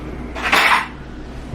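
Metal spoons and cutlery clink and rattle briefly in a drawer while a spoon is fetched in a home kitchen, a short close burst of jangling against a quiet background.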